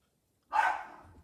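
A single dog bark bursts out close by during rough play between dogs, then trails off into quiet room tone.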